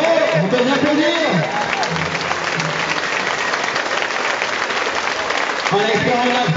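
Audience applause at a gymnastics gala fills the hall, a steady wash of clapping with crowd noise and voices calling out over it, loud and continuous throughout.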